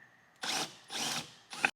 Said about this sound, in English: you can easily reach in there with a ratchet and a T30 bit